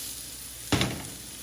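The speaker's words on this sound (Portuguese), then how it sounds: "Manteiga, ervas finas e as rodelinhas de batata pra dourar." Sliced potato rounds hit hot butter with herbs in a frying pan, a sudden loud burst of sizzling that quickly settles into a softer steady hiss.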